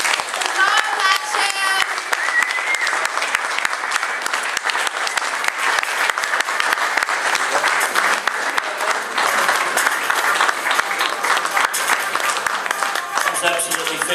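An audience breaks into loud, sustained applause with dense clapping throughout, some voices and cheering mixed in beneath it.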